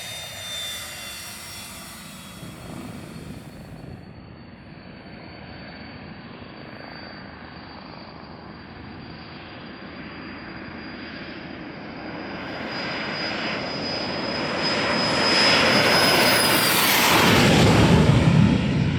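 Cabin drone of a Pilatus PC-24 business jet in flight, a steady broadband engine roar with a thin high whine, swelling louder toward the end, no talking.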